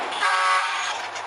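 Bus horn number 2 in Bus Simulator Indonesia, a single sustained loud honk lasting just over a second, with a steady tonal blare throughout and no voices.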